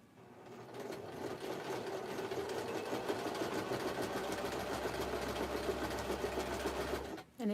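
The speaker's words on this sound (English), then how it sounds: "if my sewing machine is too loud, please let me know" A sewing machine runs steadily and fairly loud for several seconds, a constant mechanical whir that stops abruptly near the end.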